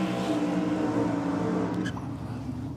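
A big block modified dragster engine at a championship drag racing meet holds a loud, steady, low mechanical roar that dips slightly near the end, with no talk over it.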